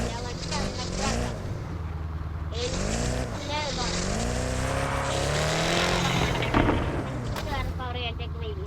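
An i4 car's engine note rises and falls in pitch through several sweeping revs, a loud, close, tonal whine with a brief sharp burst near the end.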